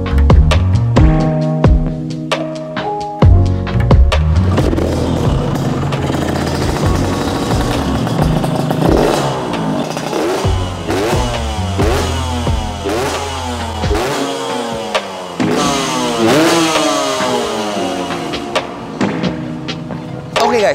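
A modified Yamaha 125Z two-stroke motorcycle engine fitted with a Ninja carburetor idles with a rough, throbbing putter, then is blipped repeatedly into loud, rising revs, close and harsh throughout.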